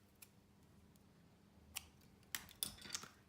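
Scissors snip through the end of a ribbon on a hand sanitiser gift box, a few quiet, close crisp cuts in a near-silent room.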